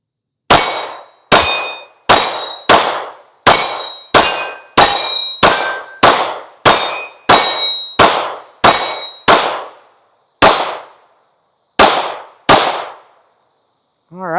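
Rapid pistol fire from a CZ Shadow 2 Orange at 25 yards, each shot followed by a ringing clang from swinging steel targets; about seventeen sharp, loud reports in quick irregular succession with a few pauses, outdoors.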